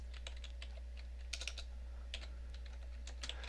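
Quick, light keystrokes on a computer keyboard in uneven bursts, close and fairly quiet over a low steady hum.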